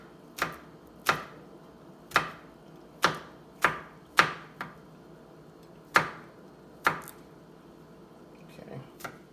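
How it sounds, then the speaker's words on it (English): A knife chopping fresh garlic on a cutting board, near and fairly loud: about nine sharp, separate thuds in an uneven rhythm with short pauses, spaced more widely toward the end. "And then what we'll do is we'll add some garlic, fresh garlic. Usually crush it on the side, and then I cut it up."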